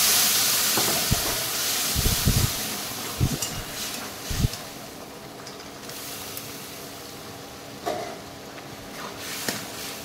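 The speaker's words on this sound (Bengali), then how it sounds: "এরপর আমি আমার সেদ্ধ করা এই খেড়োর ডালটা আমি ঢেলে দিলাম।" Boiled khesari dal poured into a hot pan, giving a steady broad sizzle and hiss that runs the whole time, with a few sharper spatters near the start.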